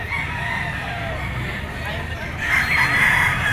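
A Boston Sweater full stag gamefowl rooster crows, its strained call swelling toward the end over a constant wash of background noise.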